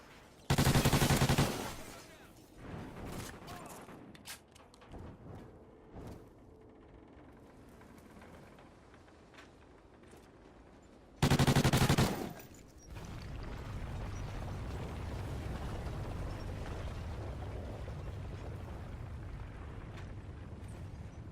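Video game battle gunfire: two loud, dense bursts of rapid shots, followed by scattered distant shots and a steady rumble of combat.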